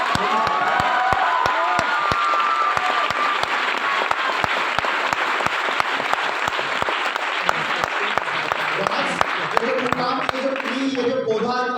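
An audience at a special training program claps loudly and steadily throughout, a dense wash of applause with a few cheers. Someone speaks over the clapping at first, and the applause thins toward the end.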